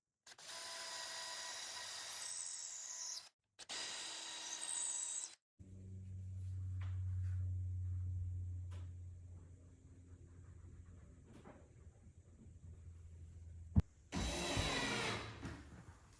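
A power drill boring a 1/4 inch hole about 1.5 inches deep into the end of plywood, heard as a close, steady motor whine with grinding bite, after shorter bursts of high-pitched tool noise, then stopping and starting again.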